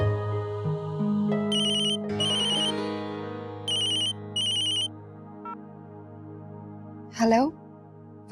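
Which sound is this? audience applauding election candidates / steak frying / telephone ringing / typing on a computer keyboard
telephone ringing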